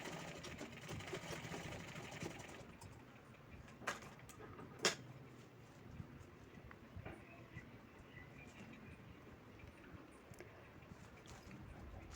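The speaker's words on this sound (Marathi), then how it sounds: "त्यानंतर आपल्याला हे कॉर्नर आपल्याला शिवून घ्यायचे आहेत व्यवस्थित" A sewing machine stitches the corners of a bag made from an old saree, a faint buzzing run at first, then quieter background with a few sharp clicks.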